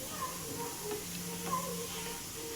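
Parotta frying in oil on a hot dosa tawa gives a steady, even hiss and sizzle, close and moderate in level, with faint speech in the background.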